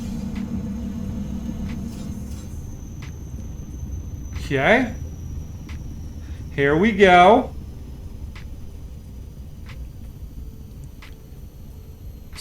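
Aircraft engines in a flight simulator game spool down, their low droning hum fading out within the first few seconds, followed by someone speaking briefly over a steady background rumble.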